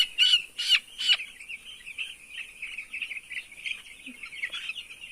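Young chicks on a poultry farm cheep continuously in high, thin peeps, with a few louder nearby chirps at the start over a steady chorus of many birds.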